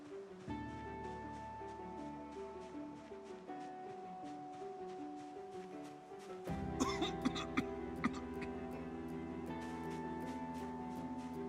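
A Project Zomboid character's cough bursts out over steady game music, followed by a few sharp short hits; the music continues throughout.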